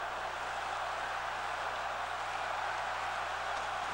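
A hockey arena crowd roars after a shorthanded goal, a dense, even wash of cheering that holds steady for several seconds with no commentary over it.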